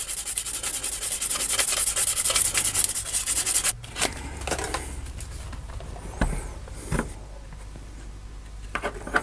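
An abrasive lightly scuffs a surface before gluing, making a close, rhythmic rubbing rasp that is strongest for the first few seconds, then gives way to softer scattered scrapes and handling noises, with no talk.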